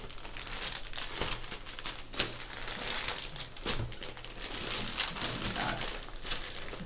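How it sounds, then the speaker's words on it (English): Embroidery floss packaging crinkling close up, a continuous dense rustle of crumpling plastic with sharper crackles scattered through, fairly loud and without speech. "sorry for the crinkling"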